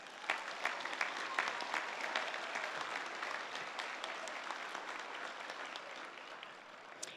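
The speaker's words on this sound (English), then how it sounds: "Let's give everybody a round of applause" Outdoor crowd at a high school graduation ceremony in a stadium applauding, a dense, distant wash of clapping that holds steady for several seconds before easing slightly.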